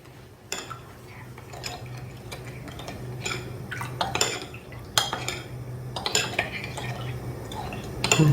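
Glutinous rice flour, three tablespoons, is whisked into a cup of liquid in a bowl while making cabbage white kimchi; a run of light clinking utensil taps and scraping strokes sounds against a steady low background hum.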